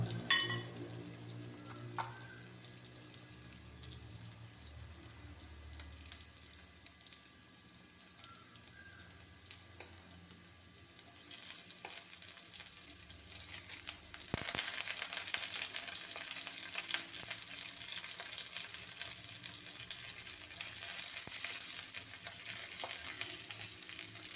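Ginger, garlic and green chilies fry in oil after mustard seeds, a soft crackling sizzle that swells into a louder, denser hiss about halfway through as more goes into the pan, with occasional faint clinks and no talking.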